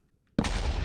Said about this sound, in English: That's a very satisfying explosion. Satisfying explosion of the gold plates.